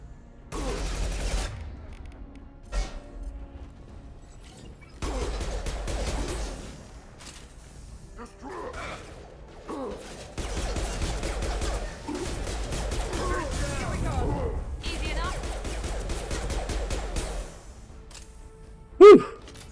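SMG fire from Mass Effect combat on Insanity difficulty with an Infiltrator, coming in several separate rapid bursts across the stretch, mixed with game effects and someone talking over the action.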